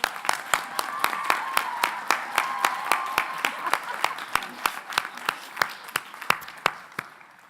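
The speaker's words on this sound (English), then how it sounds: "Let's give them a round of applause." Commencement audience at Agnes Scott applauding the faculty, broad crowd applause with a steady beat of sharp, prominent rhythmic claps and murmuring voices underneath.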